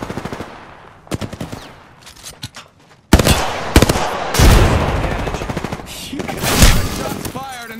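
Gunfire in Apex Legends with bullets striking the player, starting with sparse, quieter scattered shots and then breaking into loud, close automatic bursts that hammer on for several seconds, with a voice briefly speaking near the end.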